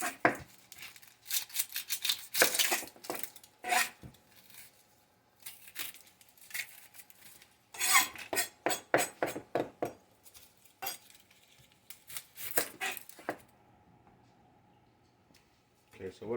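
Onions being cut in half with a kitchen knife on a board while preparing pot roast, a string of sharp, close chopping and slicing knocks in uneven bursts with short pauses between.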